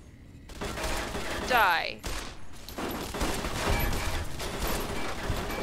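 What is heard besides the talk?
turrets firing in video game Fallout: New Vegas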